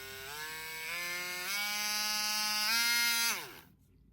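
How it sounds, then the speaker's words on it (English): A small handheld rotary sanding tool, used for alloy wheel spokes, whines at high pitch and steps up through several speeds before winding down and cutting off, close and alone. "A little tool that has rotating ends on it, and you just got all the different speeds on it."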